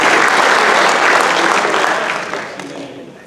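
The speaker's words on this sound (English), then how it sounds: "Give this guy a round of applause for what he did" A room full of people bursts into loud, dense applause for an aircraft-parts worker honored in connection with the Hudson River plane landing, holding strong before tapering off toward the end.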